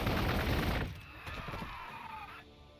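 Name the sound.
gunfire in video game Warhammer 40,000: Gladius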